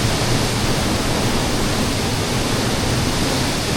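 Gabaldon Falls waterfall, water flowing over large rock formations in a steady, loud, unbroken rush heard up close, with no voices.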